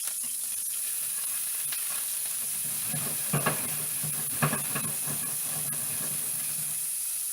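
Shallot sizzles steadily in a skillet, a constant close hiss with a few soft clatters as the pan is shaken, and no voices.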